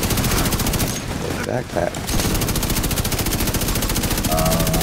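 Rapid, dense gunfire from Division 2 rattles nearly nonstop, with a short lull midway, while a player's voice speaks briefly over the shooting.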